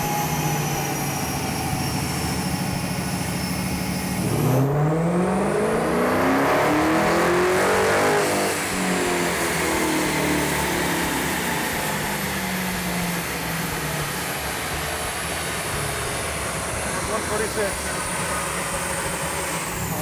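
Late-model, high-horsepower Dodge Hellcat engine on a dyno, idling and then sweeping up through the revs into a loud, sustained wide-open howl, with a voice talking over it.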